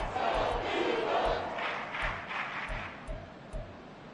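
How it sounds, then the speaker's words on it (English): A stadium crowd roars in an EA Sports American football video game, a loud continuous wash of cheering with rhythmic low thumps running underneath throughout. "This crowd doing all they can."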